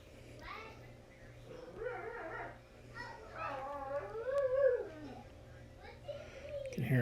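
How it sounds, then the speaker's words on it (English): A dog howls and whimpers in a home in wavering, rising and falling cries, partly under nearby talk. "You can hear a crazy dog in the background"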